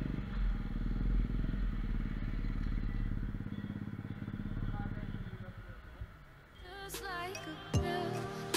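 A mini moto pit bike engine runs steadily while riding, a buzzing drone under road noise that drops away near the end. Clattering and higher tonal sounds follow.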